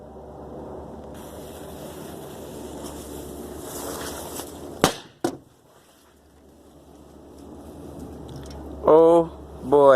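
Two sharp blasts of firecracker cannons go off in quick succession outdoors, preceded by steady wind and water-like background noise, with voices briefly heard afterward.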